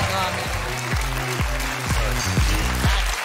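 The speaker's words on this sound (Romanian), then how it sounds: "Aplauze!" Audience applause at a televised Romanian comedy roast, steady clapping that runs under a voice talking over it throughout.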